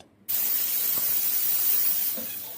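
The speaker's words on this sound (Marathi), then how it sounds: "कुकरच्या दोन ते तीन शिट्ट्या करून घ्यायच्या आहेत" A pressure cooker holding soda rice with dry prawns bursts into a loud, steady steam hiss after a brief quiet moment, holding strong for about two seconds before easing slightly.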